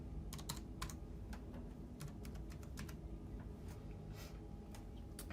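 Fingers press keys on the keypad of a Cubex MedBank Tower medication machine, a quiet series of irregular clicks and taps over a low background hum, with no talking.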